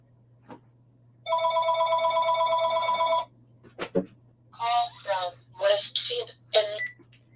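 A phone rings indoors with one long electronic trill of about two seconds, followed by a sharp click and then a person speaking over a low, steady background hum.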